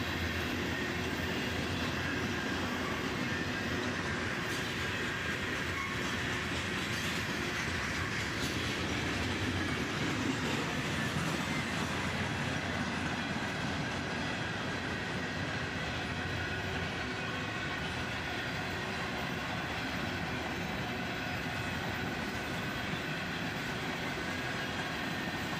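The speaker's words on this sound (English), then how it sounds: "And here we see some AIM high-top gondola cars." A long freight train with high-top gondola cars rolls steadily past, a continuous loud rumble of wheels and cars with faint clatter throughout and no voices.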